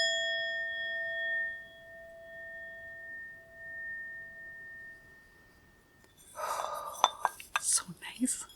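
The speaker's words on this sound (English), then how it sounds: "Choice number 3 is going to be our singing bowl." A singing bowl is struck once and rings with a clear, sustained tone that slowly fades over several seconds, followed by a voice speaking and some light clatter.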